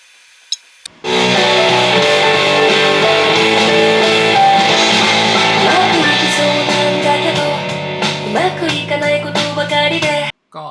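After a brief click, music bursts out of a compact Divoom Timebox-Evo pixel-art Bluetooth speaker, loud and continuous for several seconds before stopping suddenly.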